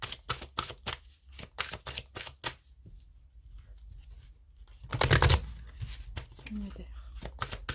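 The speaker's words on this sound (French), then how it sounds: "on va bien mélanger parce que ce jeu-là, je le prends à l'endroit et à l'envers." A deck of cards is shuffled close up in a quick run of crisp, even flicks and snaps, followed by a denser burst of shuffling under a person speaking.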